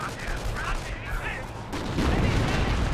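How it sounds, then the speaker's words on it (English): Artillery and gunfire rumble through a Company of Heroes 1 battle, low booms and crackling shots running continuously and growing heavier toward the end, with a voice talking over them. "More artillery running in"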